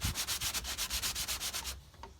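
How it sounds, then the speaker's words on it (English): Hand sanding of a classic Mini rear quarter panel with 80 grit paper: steady rhythmic rasping strokes, about eight per second, close and loud, stopping abruptly near the end. "Enjoy some sanding shots."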